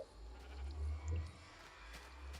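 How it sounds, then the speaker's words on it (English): Sheep bleating in the Minecraft video game, a few short, faint bleats rising over a low rumbling background, with no talking. "Look at all these sheep."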